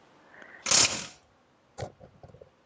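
A 19 mm socket wrench working the large bushing arm bolt on a Kia Picanto's suspension, giving a loud metallic burst followed by a few quieter ratcheting clicks, close up and without talking.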